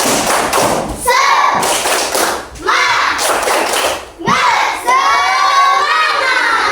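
Schoolchildren perform a rhythmic group clapping chant in an Indonesian classroom, bursts of loud claps and thumps alternating with shouted chanting voices in several repeated phrases.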